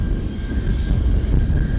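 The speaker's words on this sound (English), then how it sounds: "Gulfstream gonna take off right in front of us." A Gulfstream jet takes off close by at an airport, its engines a loud, steady roar throughout.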